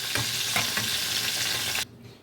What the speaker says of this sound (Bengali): একদম হালকা একটু ভেজে তুলে দিতে হবে